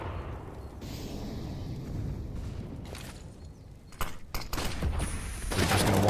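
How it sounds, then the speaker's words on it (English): USP pistol shots and surrounding gunfire from a competitive Counter-Strike match ring out in sharp bursts amid busy game ambience, growing denser and louder toward the end. "One more USP bullet there, maybe he's dead."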